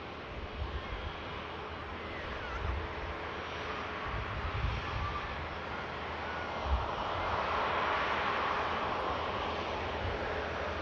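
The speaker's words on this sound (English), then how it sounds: "Love seeing the Qatar Airbus A350 at Manchester." Jet engine roar from a Qatar Airways Airbus A350 at Manchester Airport, a broad, steady rushing drone heard from a distance that swells slightly toward the end, mixed with wind buffeting the microphone.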